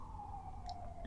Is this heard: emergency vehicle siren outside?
yes